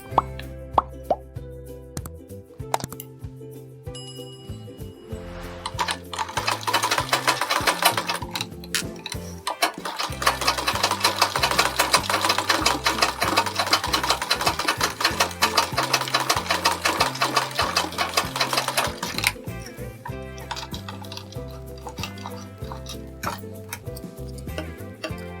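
A sewing machine stitches a blouse sleeve design in one long, steady, fast-ticking run, with quieter clicks, plops and handling noises before and after the stitching. No talking.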